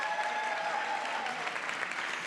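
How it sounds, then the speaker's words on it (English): An audience applauds graduates at a Latino graduation celebration, a dense, even wash of clapping that holds steady throughout without pause. "another round of applause for our graduates and for their families"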